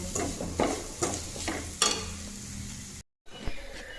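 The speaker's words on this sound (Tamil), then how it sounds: "நல்ல ஒரு வதக்கு வதக்கிடலாம்" Onions and tomatoes sizzle in a hot pan while a utensil scrapes and stirs in repeated strokes, close up, with a brief dropout near the end.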